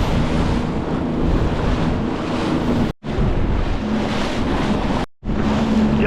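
A Sea-Doo personal watercraft trolling at about seven to eight miles per hour over open ocean swells far offshore, giving a steady, loud broadband rush of hull, water and wind with a low engine drone, broken by two brief dropouts.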